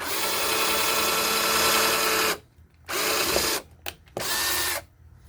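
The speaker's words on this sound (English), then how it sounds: "I'm going to drill a tap hole here quick" A power drill whines steadily at close range while drilling a pilot hole, then stops and restarts in several short bursts of varying length.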